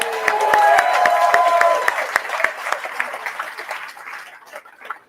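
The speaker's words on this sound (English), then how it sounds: "Can we have another round of applause for that?" An audience at a political party launch in Newcastle breaks into applause with some cheering, dense clapping at first that gradually thins out and fades, a voice briefly heard early on.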